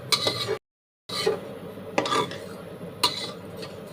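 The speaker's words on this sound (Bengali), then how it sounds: "1 বাটি ডালিয়া নিয়ে একটু নাড়াচাড়া করে নেব ডালিয়াটা" Roasted mung dal and dalia are stirred in a pot, with a handful of close scraping and rubbing strokes of a utensil against the metal, separated by short pauses.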